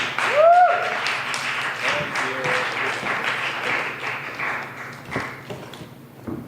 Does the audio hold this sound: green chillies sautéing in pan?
no